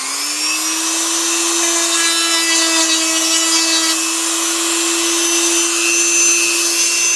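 A steady high-pitched power tool whine runs throughout with a constant hum beneath, like a rotary sander grinding continuously at close range, sanding the saucer section of a model Enterprise.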